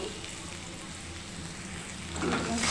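Shrimp and chopped green chillies fry in a pan with a soft, steady sizzle that swells slightly louder near the end.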